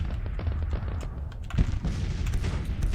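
Massed Civil War musket volleys and artillery in Grand Tactician, rolling as continuous crackling gunfire with heavier booms, steady and dense without pauses.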